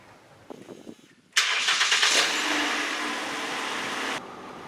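Car engine cranks and catches, then runs at a steady loud idle for about three seconds before easing down, after a Seafoam treatment was added to the automatic transmission fluid; a few faint clicks precede the start.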